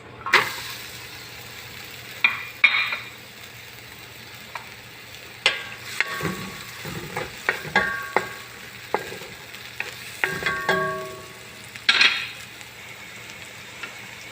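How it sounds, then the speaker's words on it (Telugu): Onions frying in hot oil for an Arabic-style rice and moong dal dish: a low, steady sizzle under scattered spoon scrapes and sharp clinks against the pan, close and fairly quiet. "రైస్ అండ్ మూంగ్ దాల్ పెసరపప్పు ఆయిల్ వేడైన తర్వాత ఆనియన్స్"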